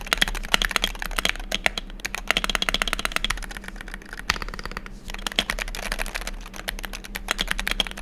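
A stock Wooting 68G keyboard typed on at a brisk pace, rapid close clacking keystrokes in a steady stream with no voices.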